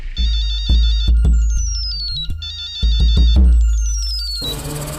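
A phone ringtone plays alone in a domestic TV drama scene, loud and close: a repeating electronic melody of short tonal bursts with descending sweeps, cycling about twice.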